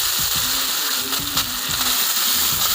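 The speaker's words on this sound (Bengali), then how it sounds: "সর্ষেটা আমি কষাই নিতেছি।" Mustard paste sizzling and frying in a pan for Bengali shorshe ilish, with a steady loud hiss and crackle plus a few scraping stirs of a spoon, no talk.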